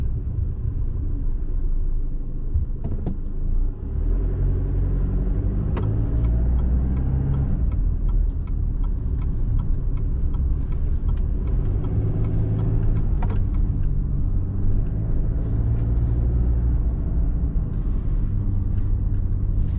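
A car drives onto the beach at Ocean Shores, Washington, in four-wheel drive, with a steady loud cabin rumble and road noise throughout and occasional small knocks.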